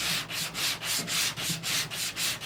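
Rhythmic scratchy rasping of a sanding block worked back and forth across a panel, about nine steady strokes, close and loud with no talking.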